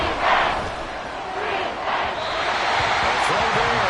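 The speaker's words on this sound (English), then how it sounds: "This crowd turning up the decibel level." A football stadium crowd at a Chiefs versus Broncos game roars and keeps swelling, with a commentator talking over the din.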